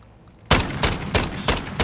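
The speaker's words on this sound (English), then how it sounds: "Oh, the gun fire rate's slow." Gunshots from a Call of Duty: Modern Warfare free-for-all match, four loud, sharp reports spaced evenly about a third of a second apart in a slow, deliberate firing rhythm.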